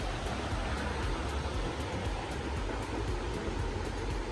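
Water from a cascade at Finch Hatton Gorge near Mackay, Queensland, pours in a steady, unbroken roar of rushing water, fairly soft and even throughout, with no voices.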